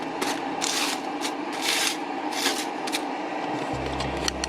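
Dehydrated watermelon pieces are shuffled around on dehydrator trays, giving a close, continuous dry rustling and scraping with bursts of brighter rattling, plus a low hum near the end.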